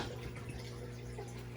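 About three quarts of water pours steadily into a pot for a mushroom fruiting block, a continuous, even splashing stream with no speech.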